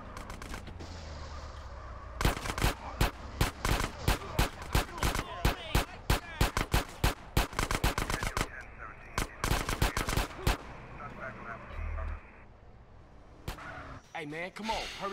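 Gunfire from Grand Theft Auto: San Andreas: sharp shots crack out in quick bursts and rapid runs, loud and close, with short pauses between volleys and a steady rumble underneath.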